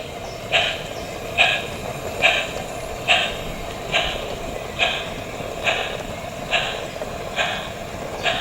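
Model railway train on the Peckforton Light Railway running toward Beeston Market Station, a steady rhythmic clicking of wheels over rail joints, about one click per second, over a low running hum.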